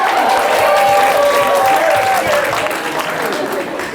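Convention crowd applause, loud, dense clapping close by with voices talking and whooping over it, fading slightly toward the end.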